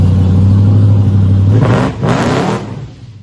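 Supercharged V8 in a 1964 Pontiac Bonneville, a loud close engine holding a steady roar, then a sharp rising rev as the car accelerates hard, a brief drop, another surge, and a fade as it pulls away.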